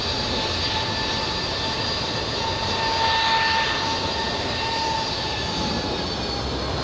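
Air Force One's jet engines powering up at LAX airport, a loud, steady roar with a sustained whine that holds even throughout, heard from a distance with no talking.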